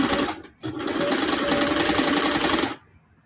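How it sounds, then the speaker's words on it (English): An old Singer 338 sewing machine stitches a fabric block, its needle clattering in a fast, steady, loud run that pauses briefly near the start, then stops abruptly. "And it's funny, this is a noisy machine, clackety clack."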